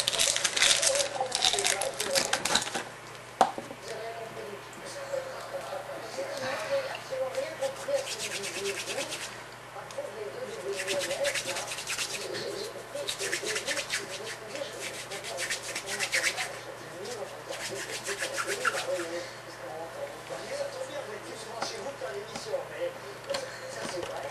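Plastic from a PlayStation 2 console case is cut and worked by hand in uneven bursts of close rubbing, scraping and crinkling, with quieter pauses between strokes, while a person talks throughout.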